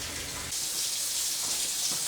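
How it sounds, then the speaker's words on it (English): A kitchen faucet runs hot water in a steady close rush, the flow growing stronger and brighter about halfway through and then holding even. "Now I've got the faucet on, and I'm letting it get to hot water"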